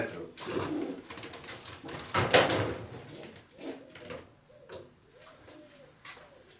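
Soft racing pigeon coos repeat in low throaty bursts in a loft, mixed with bird movement and a few knocks and thumps nearby.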